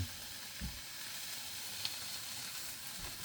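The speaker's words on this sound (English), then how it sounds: "we need this meat to go from this colour to being brown" Ground meat browning in a hot pan for lasagna gives a steady, even sizzle, fairly quiet, with a couple of soft stirring scrapes and no voices.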